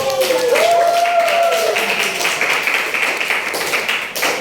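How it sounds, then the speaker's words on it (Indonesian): Classroom applause for students rises as a patter of many hands clapping, loud at first and then thinning, over a teacher's voice briefly speaking early on. "Beri tepuk tangan untuk teman-teman yang"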